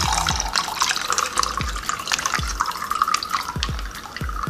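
Tofu water poured out of a plastic packing container into a sink, a steady splashing trickle with a few soft plops and knocks, close and moderately loud with no talk.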